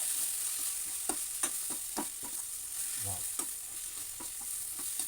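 Gongura egg curry being stirred in a pan: a steady, hissing sizzle under repeated scraping strokes and soft clinks of a spoon against the pan, close and even throughout.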